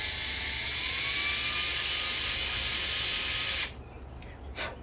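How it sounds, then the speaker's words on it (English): Power drill boring a small pilot spot into metal before a spot weld cutter, during Bel Air rear suspension work; a loud steady high whine for several seconds that stops abruptly, followed by faint handling noise. "All I'm doing is just drilling a little spot so that the spot weld cutter doesn't jump all around"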